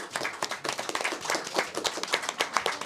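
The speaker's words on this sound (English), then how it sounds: "Let's give another big round of applause to our panelists." Hands clap in a lively round from a small audience at a press conference on election fraud, the claps fast and uneven, fairly close and loud with no talking over them.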